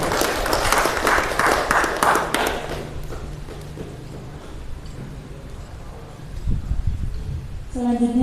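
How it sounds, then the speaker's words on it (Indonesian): Applause from an audience at a school student council election debate, a dense burst of clapping for the first few seconds that fades into room noise, with brief talk near the end. "Beri tepuk tangan untuk saya."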